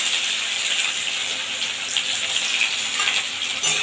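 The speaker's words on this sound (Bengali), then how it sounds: "পেঁয়াজটা নেড়ে চেড়ে ভাজা হতে হতে" Onion frying in hot oil makes a loud, dense hiss and crackle close by, steady throughout with slight surges as it is stirred.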